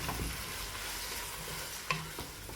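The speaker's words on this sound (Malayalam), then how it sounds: "ഒന്നര കിലോന് നാല് മീഡിയം സൈസിലുള്ള സവാള സവാള നല്ല ഗോൾഡൻ കളറായിട്ട് വാടി കിട്ടണം" Four medium onions fry in oil toward golden for a chicken biryani. The sizzle is soft and steady, with one brief clink of a stirring spoon, and there is no talking.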